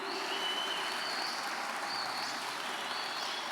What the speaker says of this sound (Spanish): Dale un aplauso al Mesías prometido.